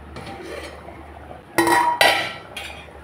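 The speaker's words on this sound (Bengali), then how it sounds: "এখন আমি ডালটা ঢেকে দিচ্ছি একেবারে লো ফ্লেমে" A metal pot lid is set over lentils simmering on a low flame, giving two sharp, close clanks followed by a lighter clink, with quiet kitchen background between.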